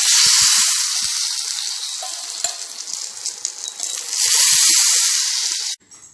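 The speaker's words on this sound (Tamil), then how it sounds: "இப்போ ரசத்தில் தாளிச்சு ஊற்றிடலாம்" Hot tempering with mustard seeds is poured into tomato pepper rasam, setting off a loud, steady sizzling hiss with a few small pops that surges again near the end and then cuts off abruptly.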